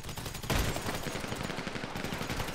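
Video game gunfire in GTA V, a dense continuous barrage of rapid shots with a sharp burst near the start, loud and steady throughout with no talking.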